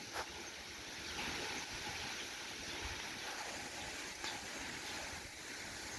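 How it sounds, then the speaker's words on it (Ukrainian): Strong, steady wind gusts blowing hard outdoors around a stork's nest, a continuous broadband roar with no speech. "Ой, який вітер. Страшний вітер."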